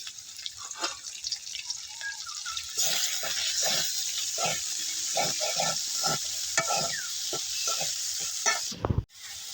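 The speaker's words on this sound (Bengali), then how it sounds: "পেঁয়াজের ভিতরে পেঁয়াজ লাল করে দিয়ে দিচ্ছি। এই যে পেঁয়াজ রসুন বাটা," Onions frying red in a pan with onion-garlic paste, a continuous bright hiss of sizzling oil with repeated scraping and stirring clicks close by, ending in an abrupt knock.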